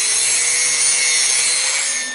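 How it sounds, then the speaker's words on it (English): Steel is ground to cut bevels for a tractor 3-point hitch receiver, giving a loud, steady, unbroken abrasive hiss with a faint whine that runs the whole time with no talking. "And start out by grinding some bevels in here."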